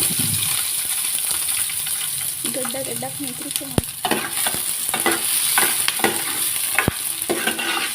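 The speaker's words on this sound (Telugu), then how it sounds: "ఇప్పుడు ఆయిల్ హీట్ ఎక్కింది కదా, ఆనియన్, పచ్చిమిర్చి ఫ్రై చేసుకుందాం" Onion and green chillies fry in hot oil for a fish curry, a bright close sizzle with spoon clinks and stirring scrapes, a few sharp taps standing out.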